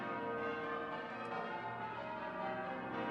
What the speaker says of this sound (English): The chimes are ringing it in.